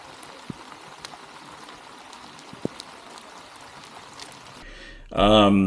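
Steady rain pours down at a lake during a trout fishing outing, a constant close hiss with scattered louder drops, and a voice breaks in near the end.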